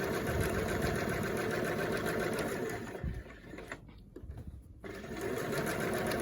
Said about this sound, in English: I am sewing through all 3 layers